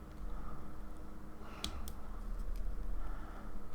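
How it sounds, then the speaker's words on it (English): A small silver cockpit part of a Mk1a Spitfire plastic model kit snipped from its sprue, one or two sharp close clicks around the middle of a quiet room. "and we will cut that off"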